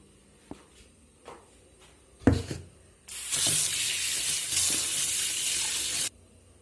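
Freshly cut pumpkin pieces being washed under a running kitchen tap, with a few handling knocks and clatters before a loud, steady gush of water that runs for about three seconds and then stops abruptly.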